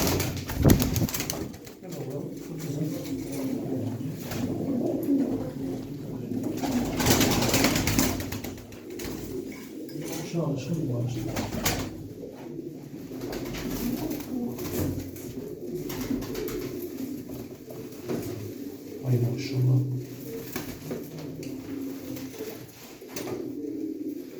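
Pigeons coo steadily in a breeding loft, their low throaty calls overlapping throughout, with an occasional wing flutter and brief voices nearby.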